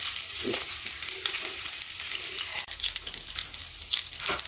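Cutlets and onions fry in a pan, giving a steady, close sizzle and crackle with soft stirring and clinking noises throughout.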